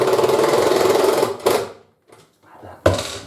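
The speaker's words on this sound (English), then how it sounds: "Just drill this into the wall." A power drill drives a screw straight into a wall with wood backing behind it, giving a loud, steady whirring buzz for about a second and a half, then a pause and two shorter bursts.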